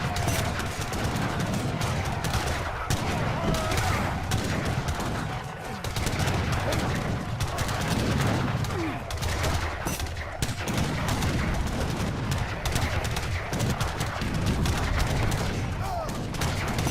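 Battle gunfire and artillery from an Age of Empires 3 4v4 match with cannons, skirmishers and organ guns: dense continuous volleys of musket fire and booms, loud throughout with no pauses.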